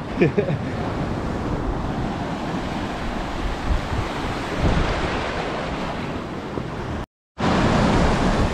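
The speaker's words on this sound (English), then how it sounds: "then again, maybe it's a bit choppy for swimming" Choppy sea waves off the coast of Comino, Malta, a steady broadband wash of surf mixed with gusty wind buffeting the microphone, continuous and fairly loud, briefly cutting out near the end.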